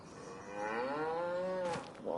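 Goat-like bleats from a farm animal pen in the video game Farming Simulator 25, a single drawn-out bleating call with a wavering pitch, close and fairly loud, ending in a short rough burst.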